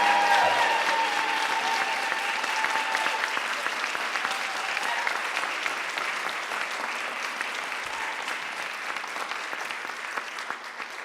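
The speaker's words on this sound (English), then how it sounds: "can we have a round of applause for our panel?" An audience at a queer anti-militarism townhall claps for the panel, sustained, fairly close applause that slowly thins out over about eleven seconds.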